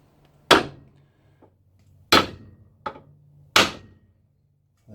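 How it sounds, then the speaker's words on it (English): A copper hammer strikes a car tie rod end on a Mitsubishi RVR, four sharp metallic blows spaced irregularly with quiet gaps between them, close and loud. "Now I've got the copper hammer."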